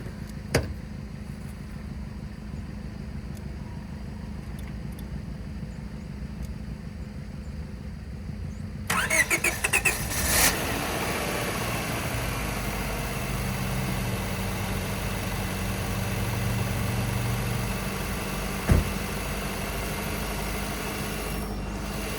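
A car engine cranks and catches partway through, then settles into a steady idle that runs on without speech.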